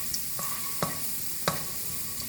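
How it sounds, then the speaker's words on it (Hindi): Finely chopped garlic fries in hot oil with a steady soft sizzle, broken by a few sharp clicks from stirring in the pan. "उसको हल्का सा फ्राई करेंगे।"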